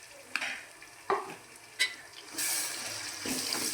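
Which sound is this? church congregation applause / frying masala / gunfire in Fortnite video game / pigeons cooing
frying masala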